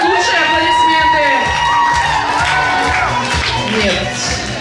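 A crowd at a children's camp awards ceremony cheers, whoops and claps for a dance performance, loud and sustained, with shouting voices mixed in.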